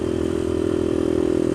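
A Suzuki DR200 dual-sport motorcycle rides on dirt, its engine a steady, loud, close drone with a faint rattle and no pauses.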